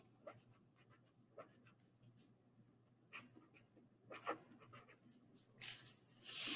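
A pen scratches and taps faintly on paper while someone draws shapes for a mind map, with soft irregular strokes building to a brisker scribbling burst near the end.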